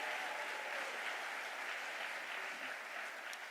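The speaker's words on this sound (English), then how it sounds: "Let's give all of them a round of applause." Steady applause from the audience at a national safer communities summit where the US Education Secretary is speaking, dense and continuous for a few seconds, heard alone without voices.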